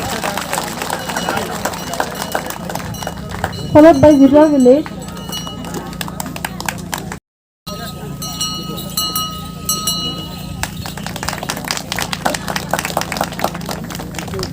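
Audience clapping at an Assam Rifles Veer Naari Samman Diwas ceremony in Wancho, with steady crowd applause running through the clip under amplified speech and a brief dropout midway.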